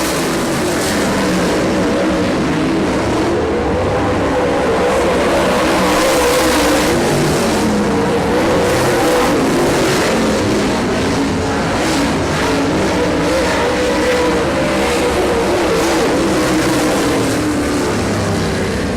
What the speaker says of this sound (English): On to turn 4, your winner of Grassroots Project Heat Race number 1, Tim Bueller.